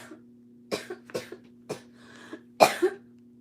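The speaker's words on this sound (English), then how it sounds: "I am so sorry I keep coughing." Several harsh coughs come in short bursts, close and fairly loud, with a low electrical hum underneath and brief pauses between them.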